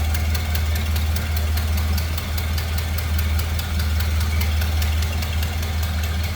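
A 201-cubic-inch inline-six engine in a 1930 Ford Model A Deluxe Sedan idles steadily and smoothly, a continuous low rumble with a faint regular ticking over it, no voices.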